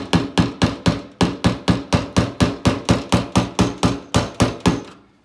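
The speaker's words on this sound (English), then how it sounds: "So I've got about another 1/4 of an inch there to tap it in." About nineteen sharp, evenly spaced hammer taps, loud and close, drive a fuel line fitting tab into place while the fuel system is prepped for a FiTech install; the blows slow and stop near the end, with no talk.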